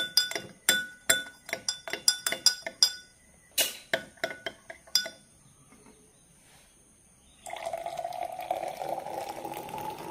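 A spoon clinks repeatedly against a glass cup while stirring coffee with coconut milk and coconut cream, a quick run of bright metallic taps, then a pause and a soft rushing pour of hot water to close.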